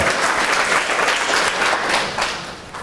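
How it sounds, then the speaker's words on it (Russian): Seminar audience at a Herbalife nutrition talk breaks into dense, sustained applause, many hands clapping together at steady loudness before tapering off slightly at the end. "So now you can clap."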